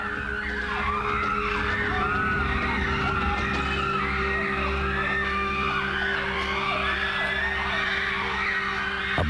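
Wild chimpanzees in the Tai forest scream and shriek excitedly during a hunt for a colobus monkey, a dense, continuous chorus of overlapping high wavering calls from several animals, loud and close.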